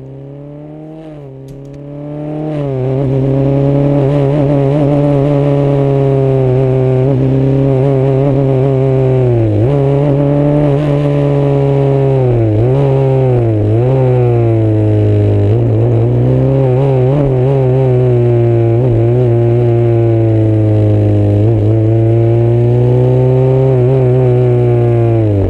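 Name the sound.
Formula 3 race car engine shifting through gears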